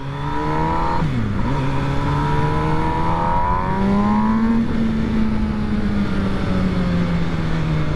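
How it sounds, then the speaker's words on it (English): A 2022 MV Agusta Brutale 1000RS, rated at 208 hp, rides out on standard exhaust cans with a loud, smooth, tonal engine drone. Its pitch dips, then climbs and holds steady through the ride under rushing wind. "A bike that sounds really, really nice with those standard cans on."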